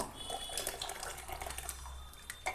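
Boiled dal made of lentils, cooked until fully soft, pours steadily from a pot in a home kitchen, giving a continuous wet, running liquid sound throughout, with no voices.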